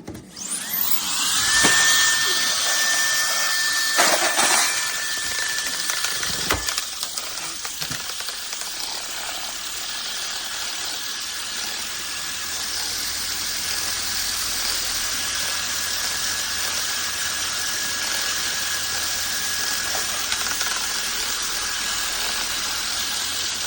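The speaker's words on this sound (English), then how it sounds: "we're about to try this Roedix blower for the spider webs and the nastiness inside my son's little playhouse" A Roedix electric compressed-air duster blower runs with a steady high-pitched whine and a broad rushing hiss. It starts with clicks and handling knocks, then holds an even drone until the end, close and fairly loud.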